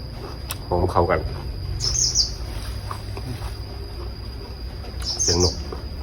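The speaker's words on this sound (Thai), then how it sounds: "เสียงนก" Birds chirp in short bursts at several points outdoors during a Thai papaya-style salad and pork crackling meal, over a steady low background hum with faint voices nearby.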